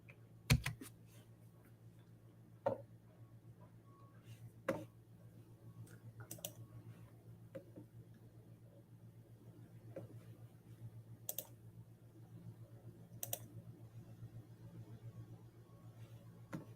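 Sparse computer keyboard typing, scattered clicks and a few sharper key taps spread over a steady low hum, with no talk.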